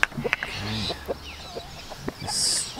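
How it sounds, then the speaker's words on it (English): Chickens clucking in a farm field, several short clucks and soft calls at close range, with a brief higher squawk near the end over faint outdoor background. "Stupid chicken up there."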